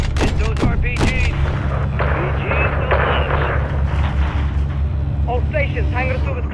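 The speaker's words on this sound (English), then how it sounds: "RPG fire coming from east of the hangar." RPG rounds and heavy gunfire in a Call of Duty: Modern Warfare 3 battle around an airfield hangar. Booms and continuous rattling shots sound under radio chatter and shouted voices.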